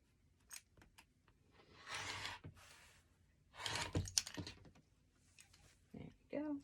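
Scissors snipping and trimming fabric binding at close range, a few short cutting bursts with rustling of cloth between them, broken by quiet pauses.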